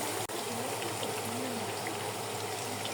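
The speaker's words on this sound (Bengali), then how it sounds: "এখন সুন্দর করে আমি এটা ভেজে নেব।" Food sizzles steadily in hot oil, a continuous hissing crackle with no break, close and even throughout, for mini puris with egg and potato.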